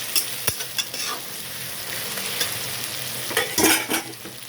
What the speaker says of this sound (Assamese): আদা নহৰুখিনি প্ৰায় এনেকৈ 2 মিনিটমান সময় ভাজি ল'ম